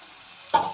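Bitter gourd pieces hit hot oil in a pan with a sudden sizzling burst near the end of a brief quiet stretch, close and crackling.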